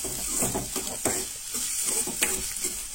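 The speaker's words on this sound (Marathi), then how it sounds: "सो हांगसर हांवें कांदो ऍड केलो।" Chopped onion sizzles in hot oil in a pan while being cooked for a Goan chana ross (white pea curry), with repeated scraping stirs of a spoon and a close, steady crackle.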